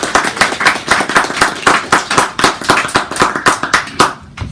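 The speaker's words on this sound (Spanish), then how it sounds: "Un aplauso, por favor, a la mesa." Audience members at a panel session clap in a loud, close, rhythmic burst of a few hands beating in steady pulses, which stops abruptly near the end.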